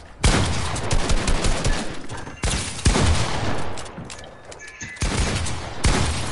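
Gunfire in the video game Fortnite: loud, dense bursts of rapid shots and impacts come in several clustered volleys with brief gaps between them, close and harsh, with no talk over them.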